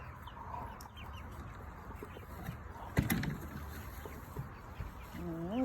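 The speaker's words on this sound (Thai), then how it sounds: "แอบมาดูไก่ค่ะ" Chickens cluck softly in a farmyard, a few birds close by with scattered short calls. One sharp knock lands midway, and a faint rising squawk comes near the end. No one talks over it.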